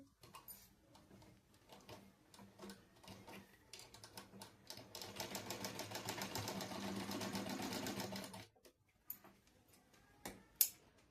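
A sewing machine stitches a fabric strip for a tailoring lesson: scattered taps and short runs, then a steady rapid mechanical chatter for several seconds before stopping, followed by a few faint clicks, close and otherwise quiet.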